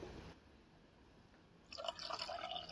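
Liquid poured into a French press that already holds bee pollen and coconut oil, a soft trickling pour starting partway through and running steadily to the end, close and moderately quiet.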